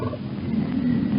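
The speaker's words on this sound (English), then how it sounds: "Tiger," A tiger gives a short, deep, rumbling roar, loud and close, filling just over a second with gravelly low-pitched growl.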